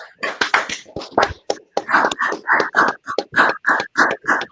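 Hands clap in a steady rhythm at a brotherhood class, close and loud, with a run of evenly spaced sharp claps.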